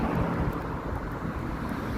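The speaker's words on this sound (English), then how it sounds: "It's cold, it's windy." Steady wind buffeting a microphone on a cold evening in downtown Toronto, a constant low rumbling roar with no voices.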